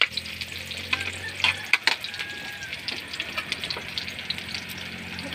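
Ginger, garlic and onion sauté in a hot pan as the base for a squid-head dish, a steady close sizzle broken by scraping stirring strokes.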